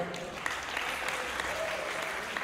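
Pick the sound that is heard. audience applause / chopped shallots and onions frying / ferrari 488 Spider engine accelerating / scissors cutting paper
audience applause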